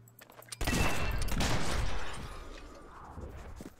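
A burst of rapid gunfire in the video game Fable 3 starts sharply after a quiet moment, loud and dense for about a second and a half, then trails off into a lingering echoing rumble.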